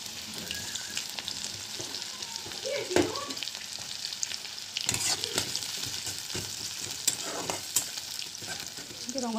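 Potatoes fry in hot mustard oil in a wok, giving a steady close sizzle with scraping stirs and a few louder clattering bursts of spoon against metal.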